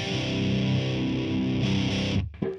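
An electric guitar through a modded Maxon OD-9 overdrive into a Marshall amp plays sustained, distorted chords that ring loud and close, then cut off sharply.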